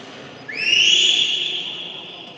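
A loud, sharp whistle rises abruptly and holds a steady high tone for nearly two seconds before fading, heard outdoors at an archaeological site in Syracuse, Sicily, with faint background ambience and no talk.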